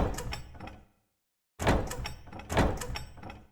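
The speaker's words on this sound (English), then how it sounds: "I really like the sound effect on this door." A heavy door in the survival horror game Silent Hill 2, set in a prison, grinds and clanks in two bursts of scraping metallic thuds separated by a brief silence, loud and close.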